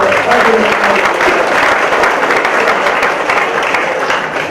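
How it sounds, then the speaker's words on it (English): Audience at a talk with Dr Jane Goodall and Professor Lee Berger breaks into a sustained, dense round of applause, steady and loud throughout with no pause. "ladies and gentlemen, a round of applause for"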